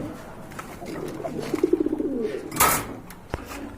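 Soft, low rhythmic cooing from a pigeon nearby, a short burst of throaty pulses, followed by a brief rustle and a faint click.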